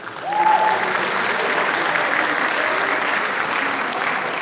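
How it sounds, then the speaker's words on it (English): Applause at a high school signing day ceremony rises fast and continues evenly, many hands clapping at once with a faint voice briefly above it. "I just want to give it a round for BB too, y'all, please."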